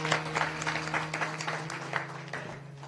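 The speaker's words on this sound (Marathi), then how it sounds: "त्याच्यासाठी एकदा टाळ्या वाजवा." A kirtan crowd claps in a dense burst of applause that holds steady, then gradually thins out.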